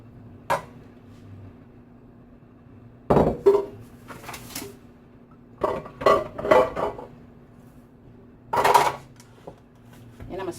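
Meat mixture for a loaf being dropped into a pan in a home kitchen, heard as a few scattered clanks and knocks of pan and utensils with quieter pauses between them, close by.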